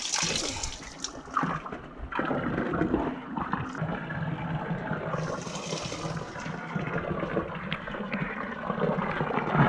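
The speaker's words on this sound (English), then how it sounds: "This is the medicinal water, pure drinking water, coming from the middle of the stone, the rock." Medicinal spring water pours out of rock into a bottle, a continuous close gurgling splash that shifts slightly in tone as the bottle fills.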